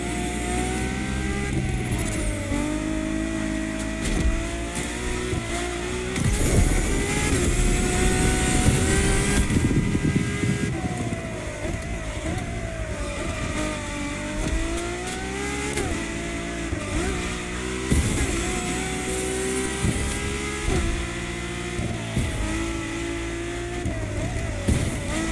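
Lamborghini and Ferrari engines racing in The Crew Motorfest, a steady, loud engine roar with shifting pitch as they rev and accelerate, running continuously with no talking.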